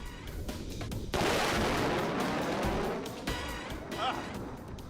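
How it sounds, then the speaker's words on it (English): Five sonic booms from a jet pass at 200 feet strike a house, a car and glassware, landing as a sudden loud broadband blast that rumbles on for seconds, with a couple of sharper jolts later on. "that right there were 5 sonic booms hitting that house and the car and the glassware at 200 feet"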